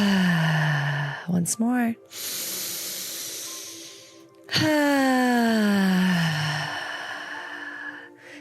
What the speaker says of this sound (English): Taking that deep breath.